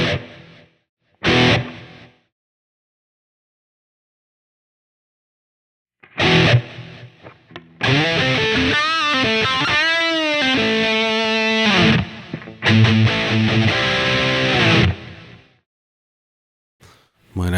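Distorted electric guitar played through a Line 6 Pod HD500 preset with plate reverb and delay, a few short bursts followed by sustained, bending chords and notes that ring out with effects tails, alone without talk.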